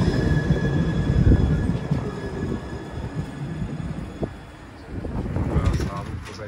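An Astra tram pulls in at a stop in Oradea, its rumbling wheels and car noise rolling steadily up close with faint high tones from the rails, briefly easing before building again.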